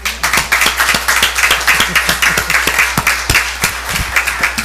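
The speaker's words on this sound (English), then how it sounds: "let's give these individuals for a round of applause for being champions of change" Audience at a school board meeting applauds in a steady, dense round of clapping with a few sharp individual claps standing out, moderately loud and continuous throughout.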